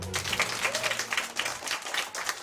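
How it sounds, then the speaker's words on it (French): Applause from a game-show audience greeting two contestants from a leisure centre, a short burst of clapping with some shouting and crowd noise blended in. "Applaudissez-les"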